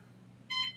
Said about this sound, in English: I don't know how to work that alarm. It just goes off all the time